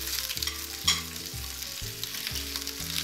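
Fennel roasts in a hot pan, giving a soft, steady sizzle with faint crackles and occasional stirring clinks, heard quietly and close with no talking.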